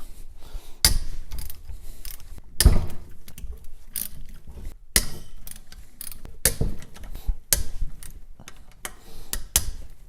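A hand ratchet clicks rapidly in short bursts while loosening 3/8 bolts, the sharp metallic ticking broken by pauses and a few louder cracks as bolts break free, close and clear.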